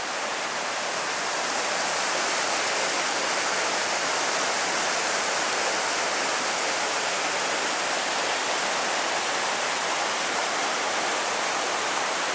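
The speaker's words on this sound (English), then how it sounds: "The roar of the creek is getting louder as we turn the corner here." Steady roaring rush of a creek in a forest along the Skookum Flats trail, loud and constant, a dense wash of flowing water with no pauses.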